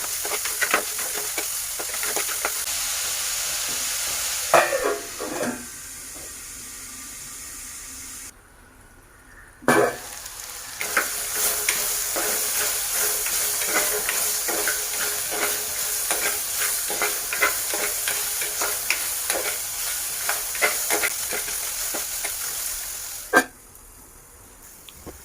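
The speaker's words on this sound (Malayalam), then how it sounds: "ഉള്ളി വാടാൻ വേണ്ടിയിട്ട് ആവശ്യത്തിനുള്ള ഉപ്പും കൂടി നമുക്കതിലേക്കിട്ട് നന്നായി ഇളക്കി അല്പനേരം ഒന്ന് മൂടി വെച്ച് അത് വാട്ടിയെടുക്കാം" Onions frying in a pan with salt while being stirred, a steady close sizzle with repeated scraping strokes of a spoon throughout, briefly quieter when the pan is covered, for a chapati and chicken curry.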